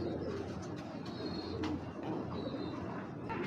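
A female racing pigeon and loft birds coo softly in low, repeated throaty calls, with faint chirps and light background noise throughout.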